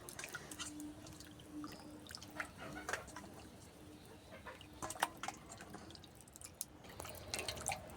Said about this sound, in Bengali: মাছগুলোকে আরেকবার জল দিয়ে ধুয়ে পরিষ্কার করে নেব